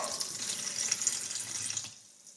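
Liquid poured along a string into a cup trickles and splashes in a continuous, close, fairly quiet stream, then stops abruptly near the end, with no voices.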